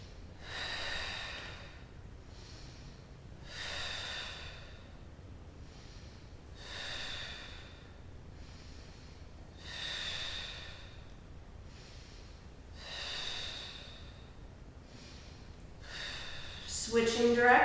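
Slow, rhythmic exercise breathing during a Pilates workout, long loud exhales repeating about every three seconds, close to the mic, with a brief voice near the end.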